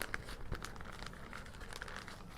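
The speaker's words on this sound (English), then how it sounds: "Good thing about foil, you can just really fold it up small." Aluminium foil being folded up small while packing a day pack, a close series of soft crinkles and crackles with no talking.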